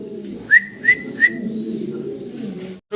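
Low, steady pigeon cooing murmurs throughout, broken by three short, sharp whistle-like calls in quick succession early on.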